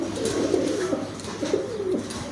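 A pair of pigeons kept for sale coos nearby, giving several repeated throaty, rolling coos at a steady rhythm, clear and close, with no talking.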